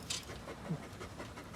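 A dog pants in quick, steady breaths, fairly close, with a soft rhythmic huffing and no talking.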